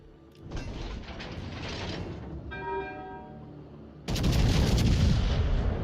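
Heavy gunfire from a warship's high-explosive salvos in World of Warships Legends, the battleship Monarch, with booming blasts and mechanical clatter, a brief harmonic whine in the middle, then a loud sustained roar of firing near the end.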